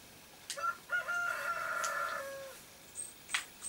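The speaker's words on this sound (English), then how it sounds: "Cock-a-doodle-doo." A rooster crows in the farming video game Stardew Valley, a single drawn-out cock-a-doodle-doo with stepped pitch, faint and somewhat distant, followed by a few short chirps.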